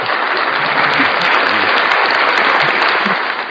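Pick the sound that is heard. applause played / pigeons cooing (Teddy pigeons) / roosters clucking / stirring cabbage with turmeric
applause played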